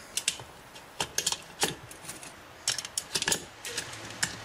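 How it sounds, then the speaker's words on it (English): Cartridges being pressed one by one into a .40 Smith & Wesson pistol magazine, a series of sharp metallic clicks arriving in irregular bursts at close range with no talking. "Back loading our magazine."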